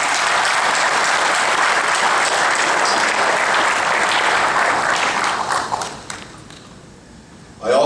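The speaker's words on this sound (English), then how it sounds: "Let's all give a round of applause and appreciation for Ken's service." An audience at a veterans' organization department meeting gives a sustained round of applause, loud and dense for several seconds before tapering off and stopping, followed by a brief burst of sound at the very end.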